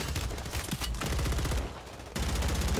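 Call of Duty Warzone gunfire on Rebirth Island: loud, steady automatic bursts of rapid shots, broken by one short pause before the shooting starts again, with no voices over it.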